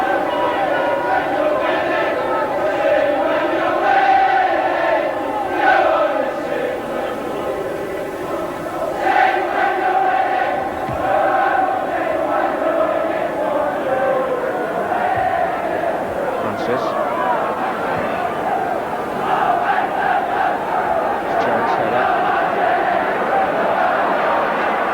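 A Coventry City football crowd at a 1980/81 match against Crystal Palace roars and chants after a goal, a loud, sustained wall of voices with rising and falling chants across the whole stretch.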